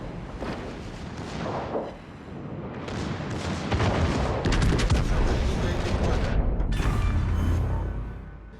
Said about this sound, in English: One of the best parts about this ship are her main battery guns, though.